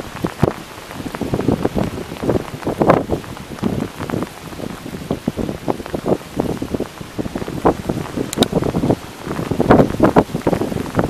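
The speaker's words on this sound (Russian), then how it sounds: "Это даже не дождь, а только град идет." Dense pattering of hail striking the ground and surfaces on a dam embankment, steady and fairly loud throughout, with gusts of wind across the microphone.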